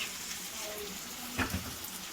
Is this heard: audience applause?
no